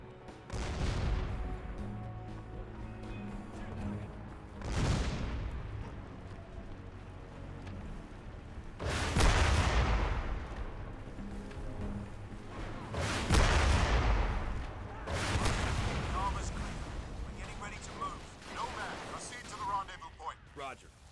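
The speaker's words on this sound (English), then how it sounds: "I guess you're just supposed to use the missile launchers. Explode them." Missile launcher explosions in the video game Crysis, four heavy blasts spaced several seconds apart, each a loud boom decaying into rumble over an ongoing background of game noise and a talking voice.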